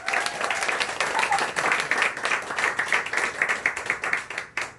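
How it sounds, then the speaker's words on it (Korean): An audience at a Korean team meeting claps warmly for several seconds, the applause fairly close and thinning out toward the end. "박수 한번 쳐주시면 돼요."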